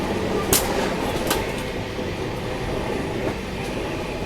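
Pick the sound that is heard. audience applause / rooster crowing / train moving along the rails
train moving along the rails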